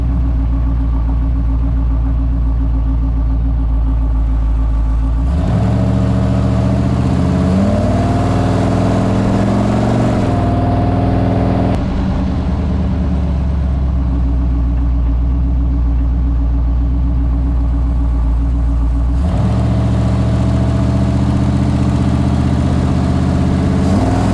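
A Spirit GT race car engine running loud and close, idling with a deep rumble and revving up in several rising bursts before settling back.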